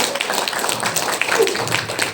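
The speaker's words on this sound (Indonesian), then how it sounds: "Tepuk tangan dulu dong buat Koprumnas." Applause for Koprumnas from an audience at a gathering, a dense steady wash of clapping that runs the whole time with a voice mixed in underneath.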